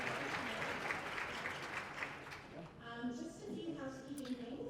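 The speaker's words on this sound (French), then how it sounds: "Veuillez les applaudir avec moi." Applause from a conference audience fills the room, steady clapping that thins out toward the end as a voice starts speaking.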